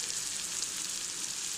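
Chopped onions, green chilli, ginger and garlic sautéing in a pan for a Tamil spinach dal, a steady close sizzle and crackle with no pauses and no talk over it.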